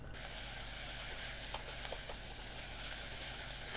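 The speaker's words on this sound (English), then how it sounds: "I've gone ahead and preheated my pan with 1 to 2 tablespoons of oil in there. And I'm going to go ahead and add my shallots." Shallots hit a preheated pan holding one to two tablespoons of oil and sizzle with a low, even, hissing crackle that stays faint and steady.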